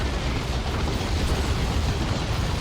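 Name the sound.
grenade explosion in video game Dawn of War 2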